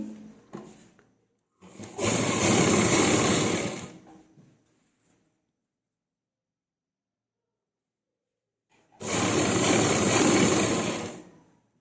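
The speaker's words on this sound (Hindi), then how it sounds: "इतनी फोल्ड करने के बाद हम इस पर सिलाई लगाएंगे" Sewing machine stitching a folded fabric neckline lining on a kameez, two separate runs of steady, close motor whirring with rapid needle chatter, split by several seconds of silence.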